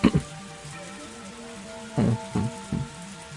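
Steady rain falls in a forest in the game Higurashi When They Cry Hou, a constant soft hiss with a few brief louder thuds near the start and toward the end.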